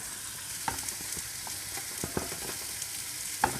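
Mince, onion, garlic, celery, carrot and chopped tomato mixture cooking in a pan for shepherd's pie, with a steady soft sizzle and occasional light scrapes and taps of a spoon being stirred through it.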